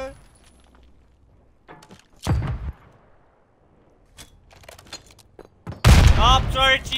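A frag grenade detonates in Call of Duty Modern Warfare III, one loud close blast with a brief rumbling tail, set among scattered gunfire and other game sounds, with a player talking before and after.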